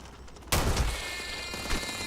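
Gunfire in the Starfield video game erupts as a sudden burst of rapid shots, loud and close, with a second smaller report near the end.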